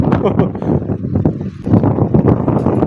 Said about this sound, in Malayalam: ഭയങ്കര കാറ്റടിക്കുന്നുണ്ട് കേട്ടോ